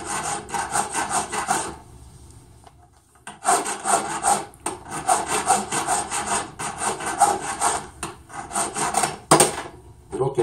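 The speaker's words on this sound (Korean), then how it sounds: "그래서 왼쪽에서 오른쪽으로 이렇게 줄 작업을 해주게 되는 것이죠" Hand file working back and forth over the outer surface of a metal ring at a jeweller's bench, shaping a slightly domed, rounded profile; steady rhythmic rasping strokes, close and fairly loud, with a short pause partway through.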